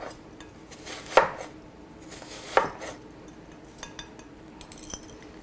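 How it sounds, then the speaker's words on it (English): A knife cuts a red vegetable into thin julienne strips on a board, with two distinct close chops followed by a few lighter taps in a quiet kitchen. "I'm just going to cut it in little julienne type pieces, nice and thin"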